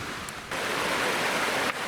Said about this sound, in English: this is a really pretty creek, really pretty hike.